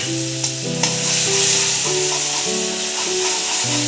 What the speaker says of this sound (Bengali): এরপরে মা কিন্তু এটাকে ভালো করে কষাবে যতক্ষণ না তেলটা বেরিয়ে যাচ্ছে